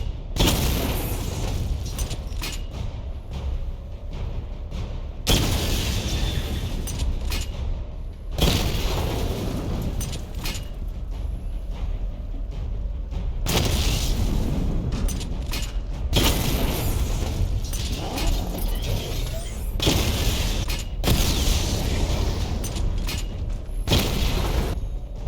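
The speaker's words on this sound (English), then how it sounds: "Missile barrage level 1 ready." Repeated heavy explosions from a missile barrage in the Batman: Arkham Knight video game, several loud booming blasts in succession with rumbling low end between them, no talking.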